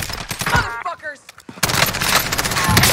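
Gunfire in the video game Call of Duty: Warzone, loud dense bursts of rapid shots filling the clip, briefly interrupted by a quieter gap, with a player's voice talking over parts of it.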